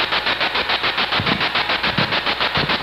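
A spirit box sweeps through radio stations and gives a loud, harsh scanning noise: fast, evenly pulsed bursts of static that repeat without a break from start to end, with no voice over them.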